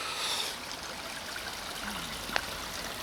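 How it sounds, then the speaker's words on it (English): Garden water running down and bypassing its intended path, a steady broadband trickling flow heard up close and alone, with a faint brief tap near the end. "it seems like the water comes there and comes down over here too."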